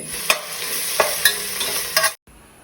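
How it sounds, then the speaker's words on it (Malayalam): Onion sautéing in ghee with two dried red chillies in a pan for vegetable biryani, a steady close sizzle with a few sharp stirring scrapes and clicks, then cut abruptly to near silence at the end. "ഒരു സവോള ആ നെയ്യിൽ നന്നായിട്ട് വഴറ്റിയെടുക്കാം, കളറ് മാറുന്നവരെ"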